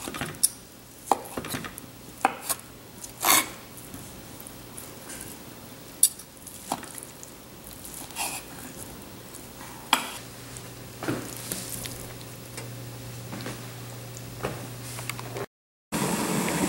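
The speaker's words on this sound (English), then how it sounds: "Just slice it into pieces and add it into the pan." Cooked chicken being sliced and dropped into a pan for a sweet and sour orange chicken stir fry: scattered sharp clicks and clatters over a faint steady sizzle, close by and with no talk.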